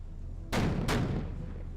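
Naval guns fire in the video game Victory At Sea Pacific, giving two loud, close booms less than half a second apart, each with a short rumbling tail.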